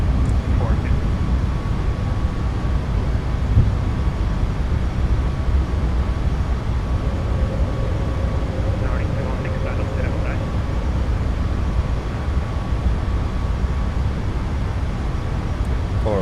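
Boeing 737 MAX jet engines at climb power in a flight simulator, a steady broad roar that holds evenly throughout, with a faint tone and brief murmur of voices underneath.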